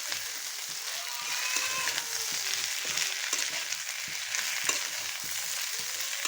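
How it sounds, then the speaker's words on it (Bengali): Chili and turmeric powder are mixed into elephant apple pickle in a pan, giving a continuous soft sizzle with irregular scraping and stirring strokes, close and steady, no speech. "এখন মশলাটা আমি ভালো মতো চালটার সাথে মিশিয়ে নিচ্ছি।"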